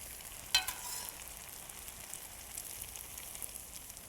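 Risotto being stirred in a pan gives a quiet, steady simmering bubble, with one sharp scrape or clink of the spoon near the start and a soft, continuous sizzle after it.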